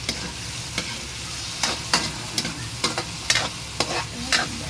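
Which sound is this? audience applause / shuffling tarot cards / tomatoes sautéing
tomatoes sautéing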